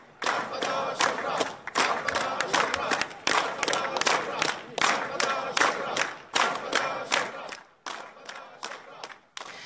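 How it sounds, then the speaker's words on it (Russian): A crowd greets Turkmenistan's president with jubilant cheering and singing at a construction ceremony, loud rhythmic bursts of massed voices and clapping with brief dips between phrases. "Присутствующие лица встретили президента ликованием и песнями."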